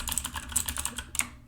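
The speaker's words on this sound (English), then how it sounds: "give people the sound of your keyboard, please" Rapid clattering keystrokes on a computer keyboard, typed close to the microphone as a quick burst of uneven taps and clicks with no voices over it.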